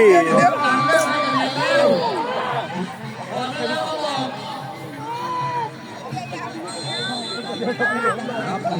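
Supporters at a football match for third place between Betong and Narathiwat provincial court teams keep up a lively roar of chatter, shouts and cheering. A commentator talks over the crowd throughout.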